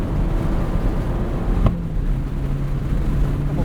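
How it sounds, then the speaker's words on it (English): Steady engine drone inside a moving 2018 Fiat 500C Abarth on track laps, broken by a single sharp exhaust pop as the revs drop at a gear change, then the drone resumes. "Pops between shifts there."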